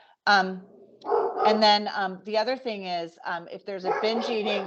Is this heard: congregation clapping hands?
no